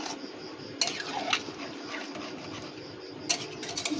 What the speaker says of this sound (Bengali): এরকম করে মশলাটা ভালো করে নাড়িয়ে নেব